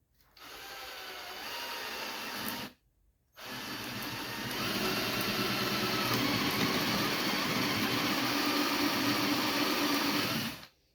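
A paddle bit drills through wood from the backside, a loud, steady high-pitched power-tool whine close by, stopping briefly after a few seconds and then running again with grinding wood noise until it cuts off.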